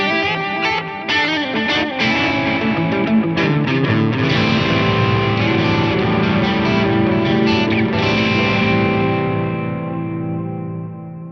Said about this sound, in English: Now we've got delay from the H9 and reverb and amp modeling from the FM3.